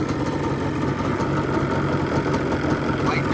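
A Yamaha Banshee ATV engine, a barn find running for the first time in 10 or 15 years, idles with a steady, loud, close two-stroke rattle and burble and no break throughout.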